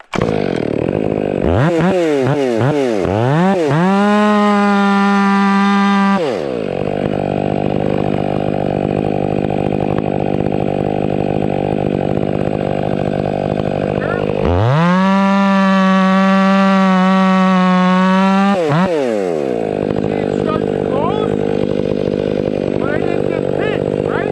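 A STIHL MS 500i chainsaw cuts wood in two loud bursts, revving up to a high whine for several seconds each time and dropping back to idle between cuts.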